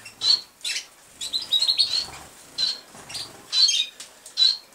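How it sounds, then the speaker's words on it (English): An American singer canary, a male that sings in roller canary style, delivers bright repeated chirps and trilled rolling phrases in short bursts, close and clear with no talking. "An American singer male who sings like a roller canary"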